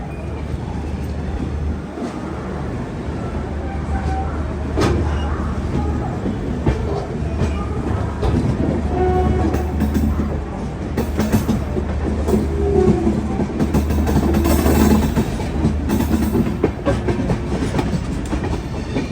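The Shalimar AC Superfast Express pulls out of Vijayawada Junction with a steady, loud rumble and rhythmic wheel clatter over the rails, heard from on board the train with some faint background voices.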